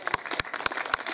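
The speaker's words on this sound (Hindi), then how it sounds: "इनके लिए भी तालियां होनी चाहिए।" Scattered audience applause at a community gathering in a mohalla: a handful of sharp, distinct claps in a sparse, uneven rhythm, close and moderately loud.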